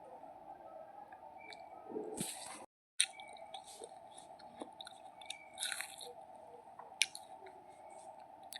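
Someone bites and chews watermelon up close, giving soft wet crunches and squishy mouth sounds in irregular bursts over a constant low hum, with no one talking.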